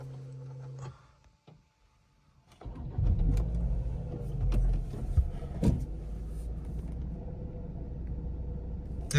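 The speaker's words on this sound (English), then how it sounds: "Let's start it up." High-mileage Volvo V50 engine cranking briefly after a pause, then catching and settling into a steady idle with some rumbling, close and moderately loud with no talking.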